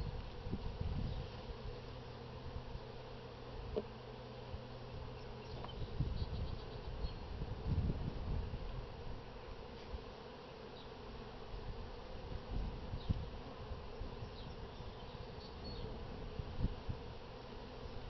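A steady, dense buzzing of many honey bees at an open hive drones on throughout, close and continuous, with occasional individual bees flying past louder.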